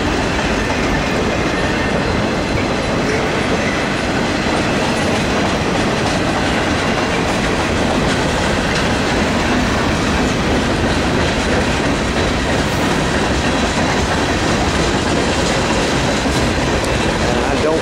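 Norfolk Southern 118 manifest freight train rolls steadily past at close range, a loud continuous rumble with clickety-clack wheels and faint wheel squeal throughout.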